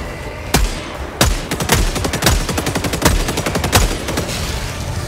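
Loud, dense weapons fire in Helldivers 2, rapid automatic bursts with several heavier sharp shots punching through, sustained and close throughout.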